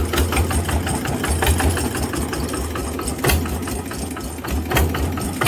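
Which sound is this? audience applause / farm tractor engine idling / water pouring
farm tractor engine idling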